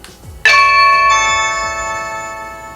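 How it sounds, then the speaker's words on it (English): A Blink Video Doorbell chime rings out after a single button press: a bright, bell-like tone struck sharply, then a second layered note joins, both sustaining and slowly fading over a couple of seconds with no talking. "last thing for us to test is the actual doorbell option right here."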